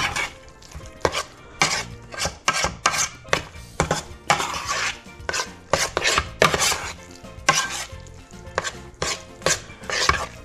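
Cilantro and onion being stirred into mashed avocado in a bowl for a Mexican dish, heard as brisk, close tapping and scraping of a utensil against the bowl in a busy, irregular rhythm without talk.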